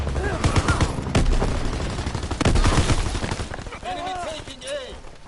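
Sniper rifle gunfire in a PS4 first-person shooter, a burst of loud sharp shots over dense battle noise and game chatter, with a voice talking in the middle.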